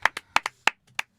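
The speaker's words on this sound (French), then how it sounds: "Victoire Toyon, on peut l'applaudir" A handful of separate, crisp hand claps ring out close by in an uneven rhythm, six distinct slaps with short gaps of silence between them, as a game-show audience greets a podcast guest.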